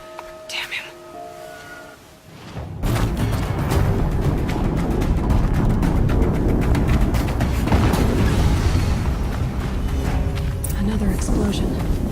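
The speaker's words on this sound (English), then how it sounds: "Another explosion." Explosion in the video game Horizon Zero Dawn, a sudden heavy booming blast that breaks a quieter passage and rolls on as a loud, sustained rumble with crackling debris for several seconds.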